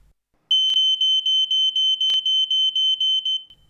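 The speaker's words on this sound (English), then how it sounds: "When the smoke threshold is exceeded, the multi-sensor alarm will sound and the alarm LED will be activated." An Ei Electronics multi-sensor fire alarm sounds a loud, piercing high-pitched tone pulsing in rapid regular beeps for about three seconds, alone in a quiet room.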